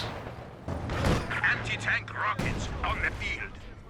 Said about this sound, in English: Just barrage to clear out the machine gun on this side